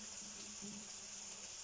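Water from cooked butter beans pours away in a steady, even gushing stream into a kitchen sink, continuous and fairly close throughout, with no voices.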